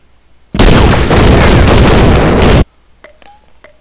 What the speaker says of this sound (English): Can you hear the AK firing to the right of me?